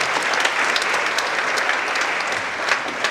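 Students gathered in an official meeting hall with the Jakarta acting governor break into applause, a dense, steady burst of crowd clapping that is loud and close throughout.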